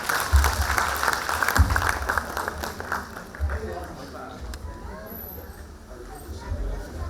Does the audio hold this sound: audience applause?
yes